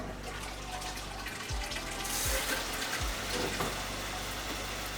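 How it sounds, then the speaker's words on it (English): Water runs steadily from the small hand-washing tap on top of a Japanese toilet tank, a continuous close splashing stream with faint clunks beneath it. "A tap to wash your hands in and to dry them."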